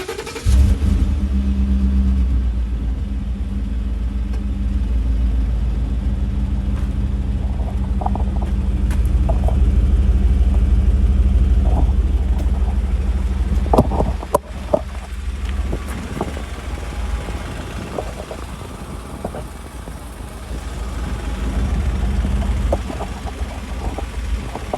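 Engine of a 2015 Ford F150 truck with the 5.0 V8 and its stock muffler, idling warm with a steady low rumble and a few brief revs, heard up close with no talking.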